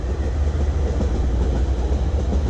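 A Vitória a Minas passenger train rolling past close by, a loud, continuous rumble of railcars with a steady rattling clatter and no talk.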